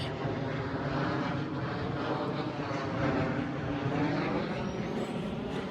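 An airplane on the flight path passes over the Beaumonde Heights residential neighbourhood, a steady, broad engine roar that fills the whole stretch without fading.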